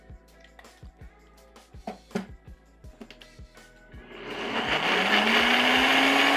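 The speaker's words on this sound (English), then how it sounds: "Let's take this and put it into the blender or your Nutribullet and blend it all together." A blender or Nutribullet whirs up a sugar-free mini pumpkin pie mix with stevia in place of sugar, starting after a few soft knocks and clicks, then roaring loud and steady with a rising motor pitch to the end.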